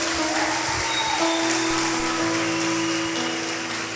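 A church congregation applauds during a worship service, producing a dense, steady wash of clapping that holds for several seconds, with faint sustained musical tones underneath.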